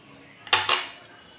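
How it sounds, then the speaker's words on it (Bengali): A metal spoon scrapes and clicks twice inside a pointed gourd as the seeds come out, two sharp close scratches in quick succession followed by a faint tap, otherwise quiet. "এইবার আমি এই হাতের সাহায্যে আর এই চামচের সাহায্যে এইভাবে ভেতর থেকে আস্তে আস্তে করে আমি সব বীজগুলোকে এরকম করে বের করে নেব"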